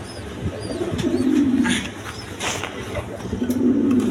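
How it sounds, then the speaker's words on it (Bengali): A pair of large Indian Bombay pigeons coo in low, rolling phrases, two clear bursts close by, while someone talks over them among other bird chirps. "এখানে এক পেয়ার বোম্বাই কবুতর আছে, অরিজিনাল বোম্বাই, ইন্ডিয়ান বোম্বাই"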